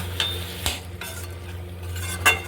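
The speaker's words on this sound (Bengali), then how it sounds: "মশলার মধ্যে দিয়ে আমি একটু কষিয়ে নেব" Bottle gourd and prawns sautéing with spices in a pan, a steady low sizzle broken by several sharp scrapes and clinks of a spatula stirring against the metal, with no talk.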